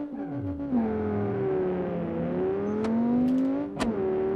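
A tuned Mk6 Volkswagen Jetta in the BeamNG Drive video game accelerates hard, its engine note climbing steadily in pitch through the gears with brief dips at shifts, loud and close.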